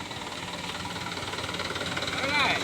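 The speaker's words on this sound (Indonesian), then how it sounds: "Ini ada truk yang datang dari arah Tarutung ya." A truck engine drones steadily on a narrow, damaged road near a river, growing slightly louder as it approaches, with a faint knocking rhythm and a brief squeal near the end.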